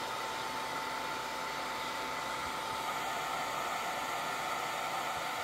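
Steady cooling fan running on a Longer Ray5 20W laser module fitted with a filter, a constant airy whir with broadband hiss, moderately quiet and alone throughout.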